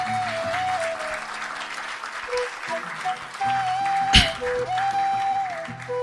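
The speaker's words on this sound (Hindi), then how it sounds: "मैं चाहूंगा कि आप सब लोग इन दोनों के लिए प्लीज़ तालियां बजा दें" An audience at a Urdu poetry recital with music applauds steadily, a sustained wash of clapping running beneath held musical tones, with a sharp louder hit midway.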